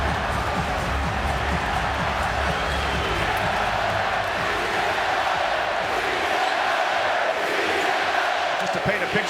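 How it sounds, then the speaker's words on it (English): Capacity arena crowd at a FIBA World Cup basketball game between France and Spain, a steady loud roar of cheering and shouting fans with rowdy Spanish supporters, with sneaker squeaks and commentary underneath. "it's a capacity crowd in this arena, making their presence felt."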